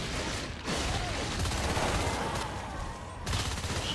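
Shotgun fire in a competitive match of the video game Natural Selection 2, a dense, continuous barrage of blasts and combat noise that stays loud throughout.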